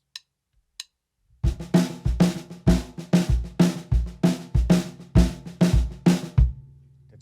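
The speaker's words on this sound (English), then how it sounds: "Snare drum figure will kind of 2/3 type rhythm will be." A New Orleans-style snare drum figure in a 2/3 rhythm plays alone and close, with sharp, crisp strokes in a repeating syncopated pattern after a couple of faint stick clicks.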